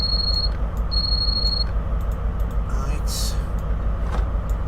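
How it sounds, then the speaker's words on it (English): The guard buzzer in a train driving video game sounds as two steady high-pitched electronic tones, one short and one longer, over the continuous low rumble of the locomotive's engine. "Guard buzzer"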